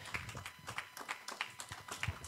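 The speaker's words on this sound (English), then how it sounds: "Give the whole Lord a hand clap of praise this morning." Faint, scattered hand claps from a church congregation during a Sunday morning service, uneven rhythmic claps heard at a distance.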